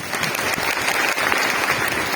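An audience at a girls' child day event in Bastar clapping together, dense steady applause close and loud for a couple of seconds with no break.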